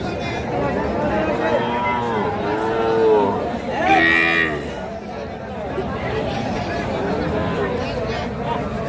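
Bull calves at a busy cattle market in Cumilla moo loudly several times, drawn-out calls rising over constant crowd chatter and nearby talking as animals are priced.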